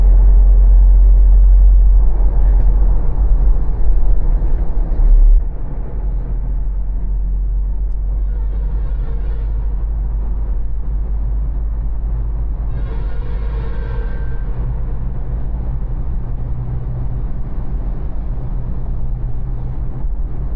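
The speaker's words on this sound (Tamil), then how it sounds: "இதாங்க டனல், குதிரன் டனல்." A car drives through the Kuthiran tunnel with a loud, steady low rumble of engine and road noise that echoes inside, heaviest in the first few seconds and then settling into a constant drone.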